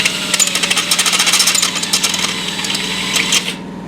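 A power drill with a step drill bit grinds and chatters loudly through sheet metal in a rapid, rattling burst, then cuts off abruptly.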